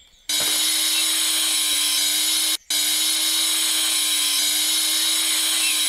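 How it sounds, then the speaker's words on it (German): Power sanding of garage walls in Garage Flipper Simulator gives a loud, steady, high-pitched whirring grind that starts abruptly, cuts out briefly midway, then resumes and holds to the end. "dass wir das schleifen, also machen wir es"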